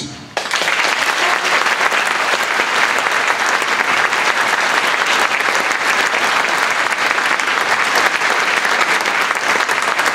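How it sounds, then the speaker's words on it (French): Concert audience applauding at a performance in a cultural centre, a dense, steady roar of many hands clapping that starts abruptly and stays loud and even throughout, with no talk over it. "Je vous demande d'applaudir à la régie, au son et lumière, Driss."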